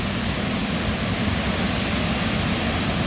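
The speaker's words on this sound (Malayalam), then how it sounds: "നമ്മുടെ അരുവിക്കര ഡാം ഒരു ഷട്ടർ, 2 ഷട്ടർ തുറന്നിട്ടുണ്ട്. ഒരെണ്ണം ഫുള്ള് തുറന്നിട്ടുണ്ട്" Water from the open shutters of Aruvikkara Dam pours out in a constant, even broadband roar, heard alone with no voices.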